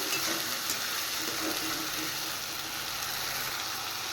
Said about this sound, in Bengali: এবার মশলাটা আমি সাঁতলে নেব একটু